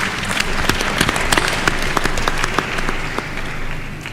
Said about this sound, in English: Let's applaud him once again.